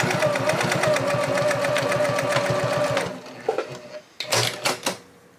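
A sewing machine stitches a zippered boxy bag, running at a fast, steady mechanical rhythm for about three seconds, then stopping. A few clicks and handling knocks of the fabric and machine follow.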